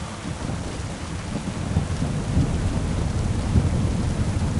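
Thunder rumbles in the medieval game Kingdom Come: Deliverance 2, a loud, continuous low roll under steady rain with no speech.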